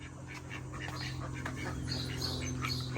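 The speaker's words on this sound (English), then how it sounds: "I hear chirping like crazy." Busy chirping and squawking from birds, steady and overlapping, over a constant low hum.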